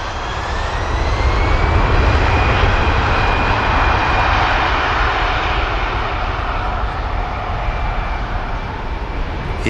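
An airliner landing at Manchester Airport in a crosswind roars loud and steady throughout, a broad jet wash with a faint whining tone gliding slowly across it as the aircraft crabs out and levels.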